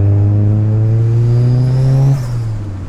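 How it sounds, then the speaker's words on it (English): Old turbocharged Mitsubishi Lancer engine revving loudly and steadily up close, suspected of a loose part or boost leak, with a rising whistle above the engine tone before the note suddenly drops. "The turbo's making a funny sound."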